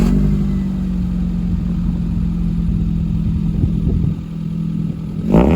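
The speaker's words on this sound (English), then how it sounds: "You might have definitely heard that roar into life, complemented by an aftermarket exhaust system fitted on this car." A Suzuki Zen car engine with an aftermarket exhaust runs at a steady, loud, close rumble, dipping slightly partway through and ending in a brief sharp burst.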